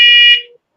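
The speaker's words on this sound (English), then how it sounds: "The fire alarms going off." A fire alarm blares a loud, piercing tone for under half a second, then cuts off abruptly, with no talking over it.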